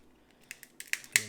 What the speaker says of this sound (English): Take our kitchen shears. I like to just cut it through the stomach.